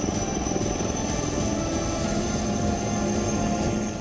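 An HAL Light Combat Helicopter flies with a steady, loud rotor and engine roar that holds even throughout, with no voices.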